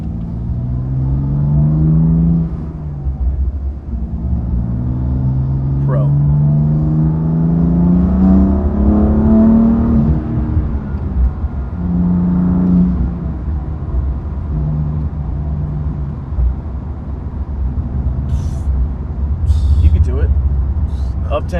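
A manual BMW F82 M4 pulls onto a main road, its engine rumbling steadily and revving up through the gears in rising sweeps, with occasional faint clicks near the end.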